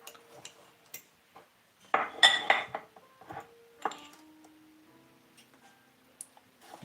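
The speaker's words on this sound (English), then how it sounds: "Take this thing apart. Because I want my teaspoon off of this thing." Light metallic clinks and ticks as a teaspoon is worked off a ring of measuring spoons, with scattered small taps and a brief cluster of jangling, close by and quiet.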